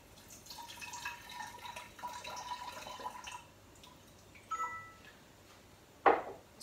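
Water for bread dough trickles into a bowl on a kitchen scale, soft irregular pouring and splashing close by, followed by quieter drips and a sharp clink near the end.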